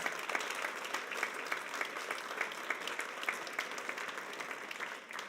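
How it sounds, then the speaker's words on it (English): An audience at a medical journalists' awards ceremony claps for itself, many hands in a fairly quiet, even patter with individual claps standing out, continuing steadily for about five seconds before tapering. "I think another clap and a louder one for yourselves"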